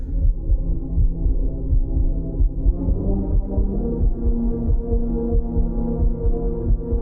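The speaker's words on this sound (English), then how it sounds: "I love the heartbeat soundtrack that's in right now." A tense heartbeat-style soundtrack plays during the finale of the Moon Knight series, a low, steady throbbing pulse that drones continuously and fairly loudly throughout, with no voices over it.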